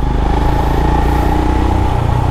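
Royal Enfield Scram 411 motorcycle riding, a steady, loud engine drone with a low pulsing beat that runs throughout without a break.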